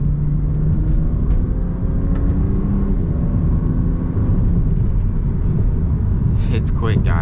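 Exhaust note of a BMW E92 335is with a DCT gearbox while driving on rough roads. The engine drones loud and steady from start to finish, with a brief rise near the end.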